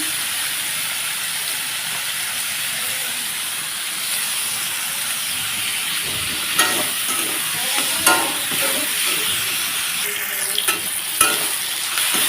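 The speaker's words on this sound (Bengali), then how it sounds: "নাড়াচাড়া করতে করতে একেবারে লাল হতে হবে তারপরে মশলাটা অ্যাডজাস্ট করতে হবে বেশ কিছুক্ষণ সময় নিয়ে এটাকে সুন্দর করে ভাজতে হবে" Onions fry in a pan for an egg dish, giving a constant loud hissing sizzle. Occasional scraping stirs and light clatters come near the end, with no voices.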